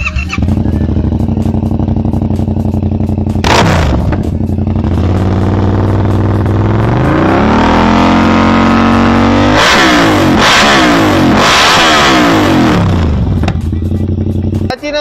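A Yamaha MT-07 motorcycle fitted with an Austin Racing carbon full exhaust revs loudly and close up, its engine note climbing and falling through several throttle blips and sustained rises, with a sharp crackle near the end.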